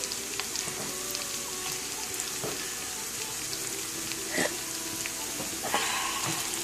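Walnuts toast in a hot pan with a steady, dense sizzle and crackle, a few louder pops and clicks breaking through the continuous frying hiss, close up and without any talk.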